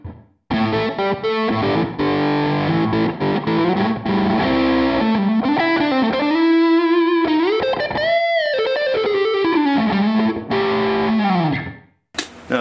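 Electric guitar played through a DigiTech RP360 with the Lexicon Studio reverb, sustained distorted chords and bending notes with a short reverb tail, loud and alone before it cuts off.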